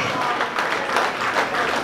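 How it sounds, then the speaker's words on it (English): An audience claps steadily and fairly loudly at a 50th birthday celebration in San Diego, a dense continuous patter of many hands with no voices on top. "So clap for me again."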